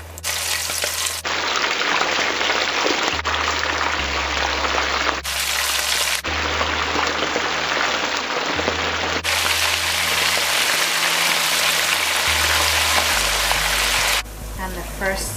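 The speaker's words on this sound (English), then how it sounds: "Now I'll start frying the smelt." Small smelt fish crackle and sizzle as they fry in hot oil, a loud, dense, steady spatter running throughout with a low background hum.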